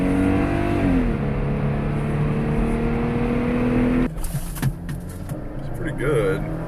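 A rented Jeep Gladiator pulls hard from a standstill in a 0-60 run, its engine droning loudly with a rising tone before the sound shifts abruptly about two-thirds through to rougher rumble and rustling.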